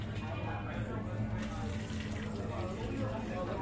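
A hot mixture of sugar, water and corn syrup is poured from a kettle onto a candy-making table, a steady liquid pouring and splattering sound at low level, continuous with faint background noise.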